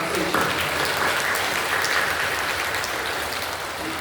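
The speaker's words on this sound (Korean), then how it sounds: "박수해 주시고요" A church congregation applauding during a Korean worship service, a dense, even wash of clapping that holds steady throughout at moderate loudness, with faint crowd murmur beneath.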